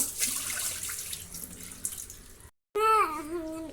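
Hibiscus flowers rinsed under a running kitchen tap, a steady broadband splash of flowing water that cuts out briefly, then a voice speaks over softer trickling.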